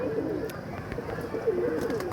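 Domestic pigeons coo softly at close range, low rolling calls repeating through a steady background hiss, with faint scattered clicks and no voices.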